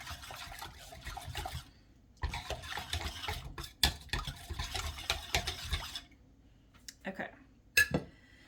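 Sourdough ingredients being mixed in a bowl at home, with irregular clinks and scrapes of a utensil against the bowl in close bursts, separated by short quiet gaps.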